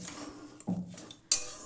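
Patishapta pitha filling being stirred in a pan over low heat: a few soft scraping strokes and a sharp metallic clink of spoon against pan, close and fairly quiet.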